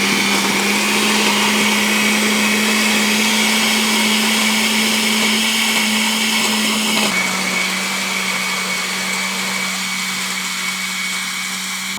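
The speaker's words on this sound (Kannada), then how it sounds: "ಸೊ ಇವಾಗ ಇದೆಲ್ಲ ಹಾಕಿ ರುಬ್ಬಿಡೋದು ಅಷ್ಟೇ ಯಮುನಾ." A kitchen mixer grinder grinds greens and spice masala with a loud, constant motor whine. The pitch drops slightly partway through as the load shifts, and the grinding runs on without any talk.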